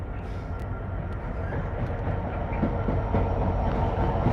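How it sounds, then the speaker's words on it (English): A train passes along a railway with a steady, rising rumble and faint clatter of wheels, growing slightly louder as it approaches, with no talk over it. "Let me know if you can hear the train"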